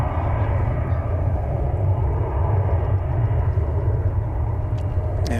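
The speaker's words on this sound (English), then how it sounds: "in a position to watch the planes coming in right overhead" Airplanes passing low overhead on approach to land at DFW Airport, a steady loud roar of jet engines heard from an open field beside the runway, continuous throughout with no talk.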